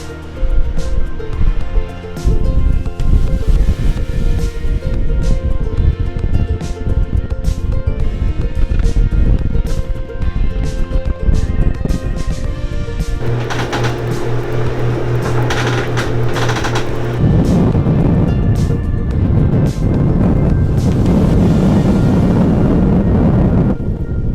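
A sailboat running under head sail with the engines off, strong wind buffeting the microphone and water rushing and slapping against the hull, loud and continuous throughout.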